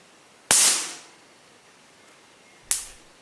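A homemade Leyden jar of a bottle and tin foil discharging its stored charge, two sharp firecracker-like electric cracks, the first loud and ringing out briefly, the second about two seconds later and slightly softer, with quiet between.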